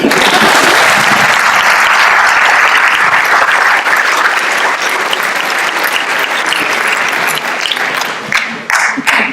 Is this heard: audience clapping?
yes